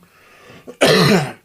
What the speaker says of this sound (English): Battling a cough, so bear with me a little bit.